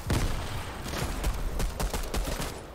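Rapid video game gunfire rattles in dense bursts, loud and close, with shots crowding together over the short span.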